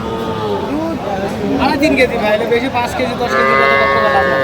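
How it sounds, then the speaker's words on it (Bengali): Cows and calves at the Aftabganj cattle market, where a drawn-out, close moo rises over crowd chatter and bargaining voices, ending in a sustained lowing call. "সুন্দর গাভী বাছুর"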